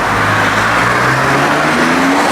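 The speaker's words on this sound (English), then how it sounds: "That's what you call a failed launch control." A car with a mid-pipe exhaust attempts a failed launch-control start, its engine holding a steady, loud drone that climbs slowly in pitch for a couple of seconds, with no voices.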